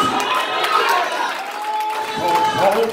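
Church congregation cheering and hollering in a lively crowd, voices rising in a steady excited swell with some clapping mixed underneath for a few seconds.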